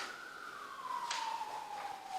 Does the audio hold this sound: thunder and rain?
no